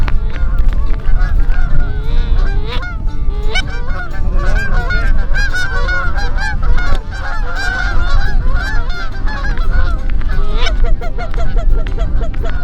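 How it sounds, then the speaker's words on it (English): A flock of Canada geese honks continuously overhead at dusk during a goose hunt in New Zealand, many loud overlapping calls blending into a dense chorus with no talk. "It's not until almost dark that the big birds finally show up."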